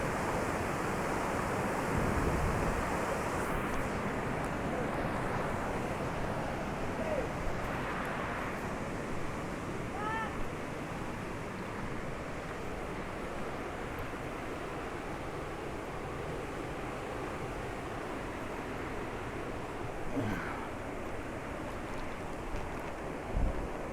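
Rayap waterfall at a new tourist site in Blangjat, Nisam: a steady, dense rush of falling water fills the whole stretch at an even loudness, with no voices heard.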